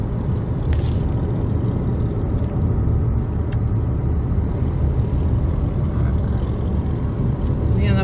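A car drives along a road through a Florida tourist area, a steady close engine and tyre rumble filling the whole stretch with a few faint clicks and knocks on top, no voices.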